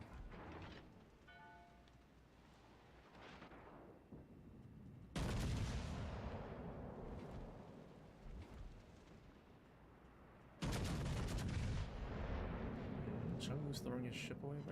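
Warship turret salvos in the World of Warships Legends video game: two heavy booming blasts a few seconds apart, each with a long rumbling tail, loud and close over a low background.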